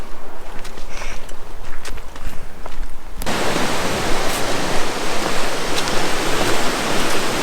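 A mountain creek on a hiking trail at night rushes steadily, a loud broadband water roar that starts abruptly partway through after quieter footsteps and trail noise, then holds constant.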